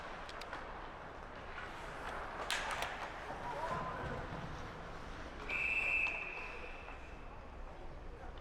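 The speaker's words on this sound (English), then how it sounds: "And we've got a whistle." Referee's whistle at a junior ice hockey game between the Wenatchee Wilderness and SnoKing Jr. Thunderbirds: one sharp, steady blast lasting about a second, heard over constant arena murmur and commentary.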